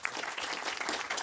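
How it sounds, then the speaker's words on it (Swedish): Brief burst of audience applause for a panel at a Swedish elder-care discussion event, moderately loud clapping from a seated crowd, continuous across the short span. "Det tycker jag vi tackar panelen med en applåd."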